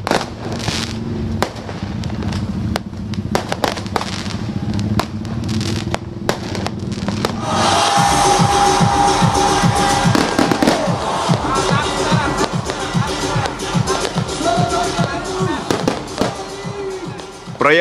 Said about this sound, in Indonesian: perayaan malam tahun baru 2024 berlangsung meriah dengan pesta kembang api.